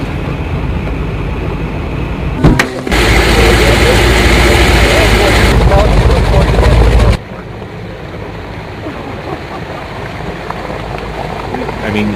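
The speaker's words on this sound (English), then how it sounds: "this is 525 horsepower engine that's sitting out here right now at idle." A 525 horsepower marine engine idles with a steady, low rumbling drone that grows noticeably louder for a few seconds in the middle before settling back, while people talk nearby.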